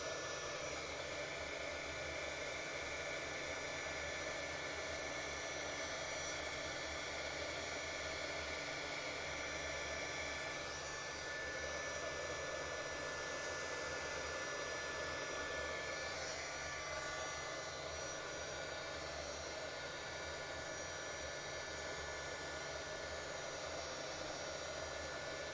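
A heat embossing tool blows hot air onto an acrylic coaster in resin art, giving a steady, loud, close whooshing roar that runs unbroken for the whole stretch with no voices.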